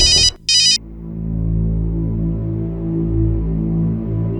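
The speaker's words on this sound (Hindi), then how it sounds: "प्रतिभा, ये तीसरी बार फोन काट रही हो तुम।" A mobile phone gives two short electronic ring bursts at the start and is then cut off, leaving a low steady hum indoors in a family drama scene.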